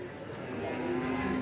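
Cattle low and moo at a livestock market in Singosari, Indonesia, with a sustained bovine call rising toward the end over background crowd murmur.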